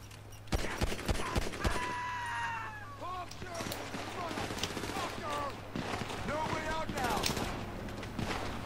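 Gunfire in GTA V Online during a multiplayer fight, with several sharp shots early on amid game noise, followed by whistling and chirping effects, all fairly faint.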